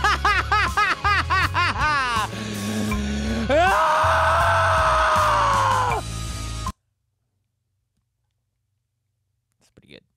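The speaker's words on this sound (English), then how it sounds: "I need to get a better scream." A loud recorded scream take for a rock track: a run of strained, wavering vocal bursts, then a long sustained raw cry that cuts off abruptly into silence.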